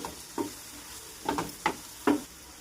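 A spoon stirs bitter gourd fry with spice powders in a pan: four soft scraping strokes, close and quiet, over a faint background hiss.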